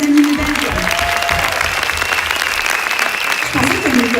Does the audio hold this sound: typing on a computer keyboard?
no